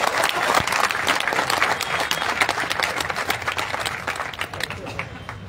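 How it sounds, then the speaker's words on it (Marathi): A crowd at a public speech claps loudly and steadily, dense applause filling the whole stretch without pause, gradually easing a little toward the end. "त्यांच्यासाठी टाळ्या वाजवली."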